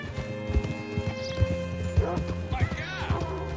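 Steady clip-clop of horse hooves with a horse whinnying in a video game, over a background music bed and voices talking.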